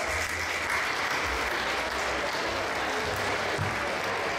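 Steady, continuous applause from a festival crowd after a music school concert at a town's summer festa major, an even roar of clapping heard at moderate distance.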